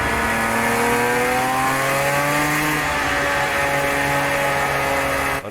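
A Porsche 911 boxer engine in a racing sim game drones loudly and close, its pitch rising steadily through the gears in a continuous rasping note.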